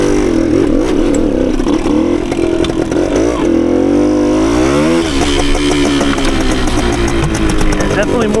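A 1980 Suzuki TS185 dual sport motorcycle, a dirt-oriented two-stroke, revs loud and close, its engine pitch wavering and then climbing through a hard acceleration.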